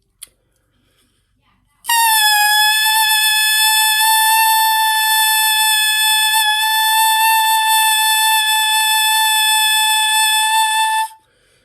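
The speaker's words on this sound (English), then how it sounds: "For an alto saxophone, we're going to try and match the pitch A" A single reedy tone from an alto saxophone mouthpiece starts after a brief click and holds steadily at concert A for about nine seconds, bright and buzzy, played alone.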